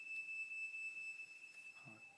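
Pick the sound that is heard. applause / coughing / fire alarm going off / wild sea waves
fire alarm going off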